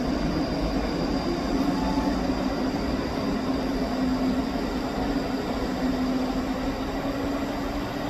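A Scotrail train pulls out of Edinburgh Haymarket station, a steady rumbling roar with a faint tonal hum that holds at an even level throughout.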